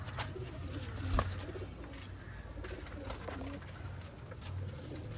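Soft, low coos from red-eyed pigeons repeat through the clip over a faint background hiss, with a brief louder knock partway through.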